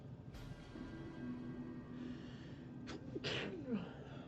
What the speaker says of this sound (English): Obviously I'm going to sneeze.